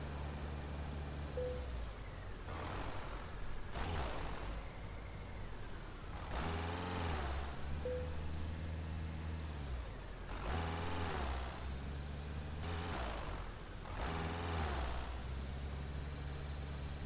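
A truck in Euro Truck Simulator 2 manoeuvres at low speed, its engine droning steadily while repeated sharp hisses of air brakes burst out every few seconds.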